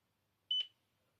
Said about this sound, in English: It should beep once it's done.